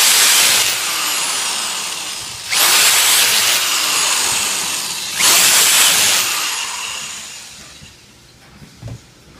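Power tool tightens the three pump motor fasteners during a motor swap, in two loud bursts of about two and a half seconds each following an opening burst, close to the microphone with a steady whine and no talking.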